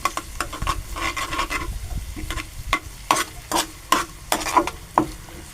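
Garlic paste sizzling in hot oil in a pan, with repeated close scraping and stirring strokes over a steady frying hiss.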